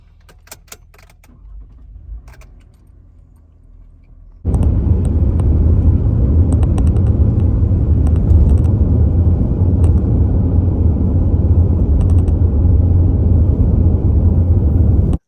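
Steady, loud broadband road and engine rumble from a car being driven on the road, holding constant after a quiet start with a few faint clicks and rustles, no talk.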